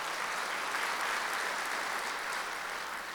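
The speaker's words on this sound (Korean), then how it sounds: "박수 한번 더 해주세요" Church congregation applauds during a Sunday worship sermon, an even, sustained patter of many hands clapping at moderate distance with no voices over it.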